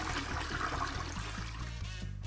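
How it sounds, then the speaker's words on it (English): A toilet flushing in the video game Who's Your Daddy, a steady rushing wash of water that fills the short moment with no talk over it. "Here, flush it. Flush your drink."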